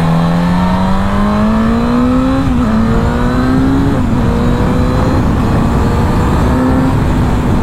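A 2021 Suzuki GSX-S 1000 four-cylinder motorcycle on its stock exhaust revs loud and close, its engine tone climbing steadily and smoothly through the range with small dips, alone and without talk.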